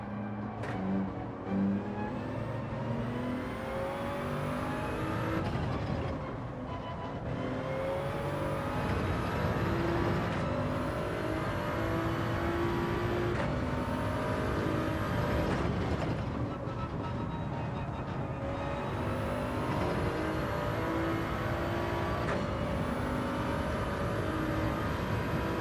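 A Toyota Supra engine in Gran Turismo 7, revving and droning steadily throughout a race with shifting pitch and brief throttle lifts, loud and continuous with no talking.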